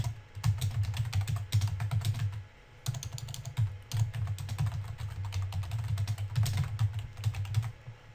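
Steady typing on a computer keyboard, close and continuous key clatter in quick bursts with short pauses, no voices.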